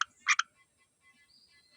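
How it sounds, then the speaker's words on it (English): A frog gives a few short, bright croaks in quick succession, close and fairly clear against a quiet background. "There's a frog in there."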